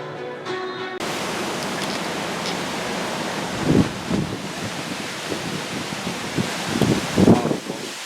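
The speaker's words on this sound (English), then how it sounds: "We can hear the winds gusting outside." Broad rushing wind of Hurricane Milton roaring steadily outside, with louder gusts buffeting the microphone in low thumps.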